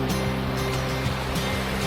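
Broad, steady wash of water from a wide, clear river near a campsite in Tanay, Rizal, heard as an even rushing flow with low rumbling underneath and no voices.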